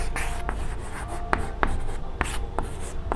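A pen scratches steadily across paper while an answer is written out in a math lesson, close and continuous, with faint taps where the strokes start.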